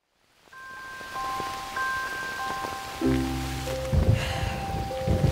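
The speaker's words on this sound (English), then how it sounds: "Man, I'm sick of this rain." Steady rain falling in a children's nursery-rhyme show, a soft even hiss running throughout, with ringing musical notes on top and heavier splashy bursts toward the end.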